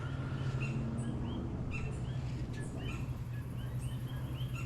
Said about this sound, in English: Whenever that bird shuts up.